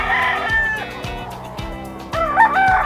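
A sweater gamefowl rooster crows loudly and close at a busy pet market, with steady clucking and rhythmic background clatter around the calls.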